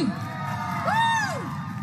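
At the Monsoon Mango Fiesta 2025 at Gandatwisa Narikel Kunja, a festival crowd cheers over a steady background roar, with a couple of rising and falling whoops that carry above the crowd.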